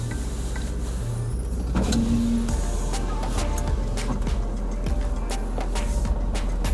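A pickup truck fitted with a 2.5-inch ReadyLIFT front leveling kit drives along, its engine and road noise forming a steady loud cabin hum with occasional faint clicks and rattles.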